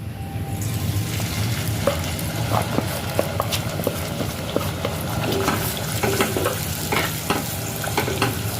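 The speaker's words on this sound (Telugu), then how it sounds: "వేగిన తర్వాత మనం మసాలా దినుసులు పేస్ట్ చేసుకున్నాం కదా, అవి వేసి వేపుకోవాలి" Masala spice paste frying in oil in a pan for a spicy mutton curry, a steady close sizzle with scattered stirring scrapes throughout.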